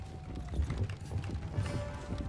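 Horse hooves clop in a rapid, uneven patter within a Bannerlord siege battle, moderately close and mixed with clanking mechanical game noise, no voices.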